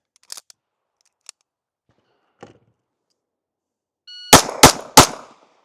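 Pistol fired during a shooting transition drill: three loud, sharp gunshots close together in quick succession near the end, after a few faint clicks and small handling sounds in otherwise quiet air.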